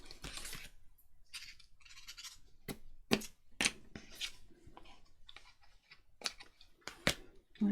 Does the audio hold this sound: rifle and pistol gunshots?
no